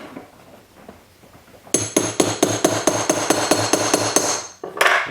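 Rapid, evenly spaced hammer blows shape a silver rivet into a mushroom head on a copper cuff, about a dozen sharp metallic taps close up after a quiet start, then a short pause and one more strike.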